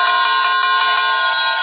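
Hand bells rung by an audience at a constituency conference held in a high school: loud, dense, continuous jangling with many bells overlapping at once.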